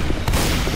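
Rapid gunfire from a Left 4 Dead 2 match fills the moment, a loud dense burst of overlapping shots with a heavy low rumble that keeps going throughout, no speech.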